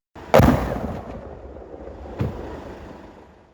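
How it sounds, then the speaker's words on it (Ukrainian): Sappers detonate leftover explosives: a sharp, heavy blast erupts and rolls off into a long rumbling decay, followed a couple of seconds later by a second, weaker thud. "сапери, що виїздять разом з пошуковцями, підривають залишену росіянами вибухівку"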